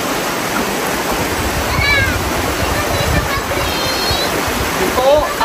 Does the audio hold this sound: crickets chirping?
no